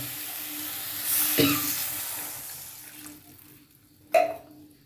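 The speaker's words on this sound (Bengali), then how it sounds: "এই পর্যায়ে আমি সেদ্ধ হওয়ার মতন জল দিয়ে দেবো।" Water poured into spices frying in a pan raises a broad, rushing hiss that gradually dies down to a quiet simmer, followed by a single sharp clatter of a utensil.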